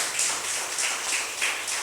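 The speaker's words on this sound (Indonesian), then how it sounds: "Berikan tepuk tangan bagi Tuhan" A church congregation at a Sunday worship service claps together in a rhythmic burst, bright hand claps pulsing in regular beats through a reverberant hall.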